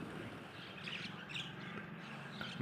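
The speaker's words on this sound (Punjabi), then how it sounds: "ਕਬੂਤਰ ਆ ਗਏ ਇਹ ਚਿੜੀਆਂ ਨੇ ਛੋਟੀਆਂ ਛੋਟੀਆਂ" Small sparrows and pigeons call outdoors on a rooftop early in the morning, scattered light chirps over a constant broad background hum, moderately distant.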